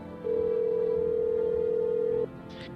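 In the video game No, I Am Not a Human, a telephone gives one steady electronic tone lasting about two seconds as a call is placed, then cuts off into quiet room noise.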